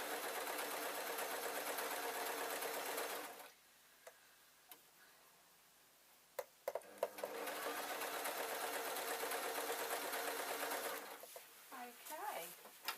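A sewing machine stitches a suit trouser waistband in fast, even ticking runs, close and steady, with a pause in the middle marked by a few small clicks before stitching resumes.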